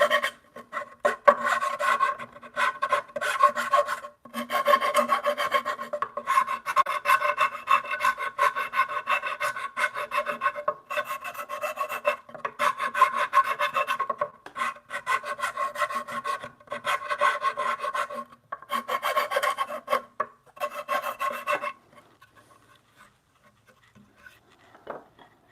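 A hand rasp works wood close up, enlarging a mortise in a bunk bed rail to fit a tenon: long runs of steady back-and-forth scraping strokes broken by short pauses, ending in near silence with a few faint knocks.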